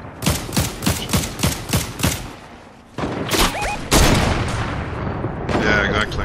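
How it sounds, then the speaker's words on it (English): Gunfire in a Fortnite squad match, a rapid string of sharp, loud shots in a steady rhythm, then a pause and denser bursts mixed with game effects, while players talk over it. "I think someone's shooting from the left."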